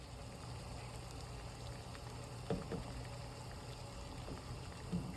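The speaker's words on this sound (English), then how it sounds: "My water's boiling, so I'm gonna take my peach and put it in here." Water boils in a pot for blanching peaches, a soft continuous bubbling and hiss with a few small splashes or knocks near the middle and the end, quiet and with no talking.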